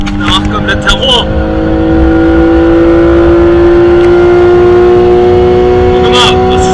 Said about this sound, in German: Geht der Porsche richtig hier? Guck, der fährt an uns vorbei.